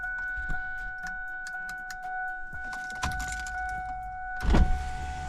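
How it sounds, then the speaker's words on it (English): Keys jingle and faint clicks inside a Mach 1 Mustang convertible with a steady electrical whine, then a short motorized whir as a power window rolls down, close by. "I might go ahead and roll a window down."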